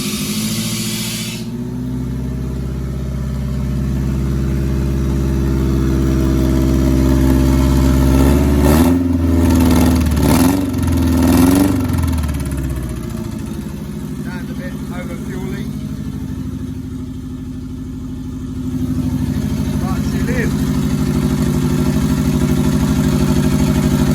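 A turbocharged Honda Civic engine starts up and settles into a loud, steady idle, with a few revs rising partway through before it drops back to idle.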